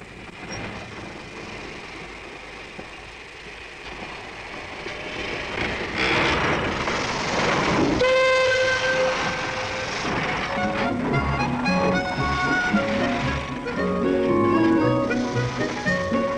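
A log train on a bush railway in karri forest rumbles along the rails with grinding, squealing wheels and metallic screeches, growing louder and steady as it rolls past close by.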